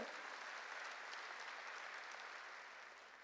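A church congregation at a Korean sermon breaks into sustained, dense applause, a steady wash of clapping from many hands that eases slightly toward the end, with no speech over it.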